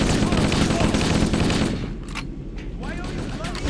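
Rapid gunfire in the Halo PC game on the Pillar of Autumn, dense sustained bursts for the first half, then thinner scattered shots with brief voice-like sounds in the background.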